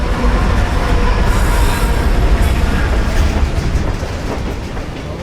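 A train rumbles past in the video game Alpha Protocol, a loud, close, continuous roar of rolling wheels and rattling cars that eases slightly toward the end.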